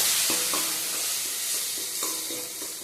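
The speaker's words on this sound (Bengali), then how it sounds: "দিয়ে একটু ভালো করে নাড়াচাড়া করে নেবো।" Spices, cumin and chili powder with turmeric, being stirred in a hot frying pan, a constant close sizzle with several soft scraping strokes of the spoon, no voices.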